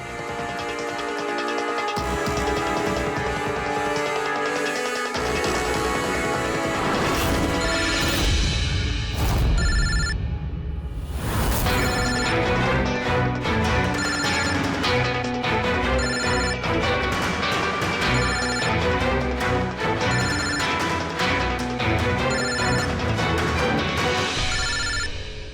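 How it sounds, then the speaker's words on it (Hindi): A telephone rings on and on without anyone answering, set against loud, dense dramatic background music and effects in a Hindi crime drama scene; the ringing stays masked within the steady musical bed throughout. "कोई फोन क्यों नहीं उठाता?"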